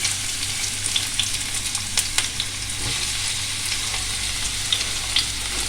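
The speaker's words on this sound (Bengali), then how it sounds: "তেলটা আমার গরম হয়ে গেছে, এবার আমি একে একে এগুলো দিয়ে দিচ্ছি" Chicken spring rolls fry in hot oil with a continuous, close, bubbling sizzle and scattered pops and crackles throughout, with no voices.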